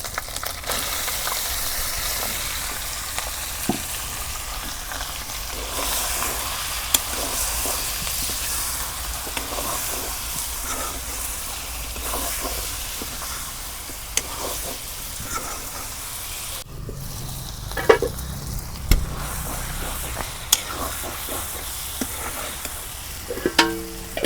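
Chicken sautéing with spices and cumin in a pan for a curry, a long, steady, rain-like sizzle close by with occasional scraping clicks of stirring, no voices.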